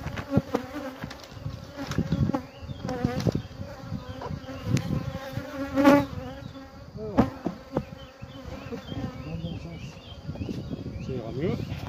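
Honey bees buzzing around an opened hive during a spring inspection, a continuous close droning hum with individual bees passing near, while someone speaks French over it.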